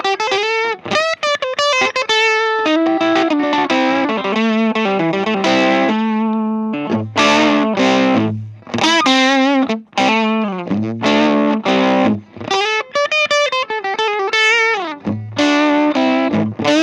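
Electric guitar played through a Colorsound Overdrive pedal built on a new circuit board, loud, compressed, distorted notes and chords in a continuous melodic run with no talking.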